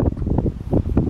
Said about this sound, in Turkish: Rüzgar başladı. Mikrofonumu koruyorum.